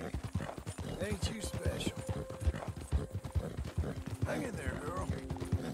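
A horse's hooves clip-clop in a steady walking rhythm in the Red Dead Redemption video game, close and distinct, while someone talks gently to the horse over the footfalls.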